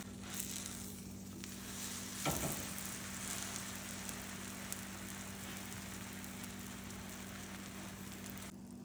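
A grilled cheese sandwich frying in a pan over medium or lower heat, giving a steady, soft broadband sizzle with a faint low hum underneath and one brief louder knock near the start, with no talking.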